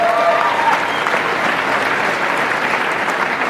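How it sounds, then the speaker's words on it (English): Loud, dense audience applause at a business conference car awards ceremony, a continuous wash of clapping from a large crowd with a brief whistle near the start. "So huge applause for all those 60 people."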